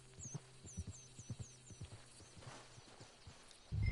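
Horse hooves clip-clop in Red Dead Redemption 2, a quick rhythmic series of hollow thuds at moderate distance, with a faint chirping sound above, ending with a sudden louder thump.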